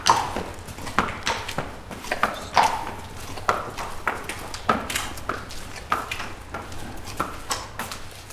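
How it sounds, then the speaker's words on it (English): Slow hoof clops of a horse walking through a stable on a hard floor, evenly spaced steps at a walking pace, fairly close with a faint background hum. "that sound of his horse walking through the stable right there"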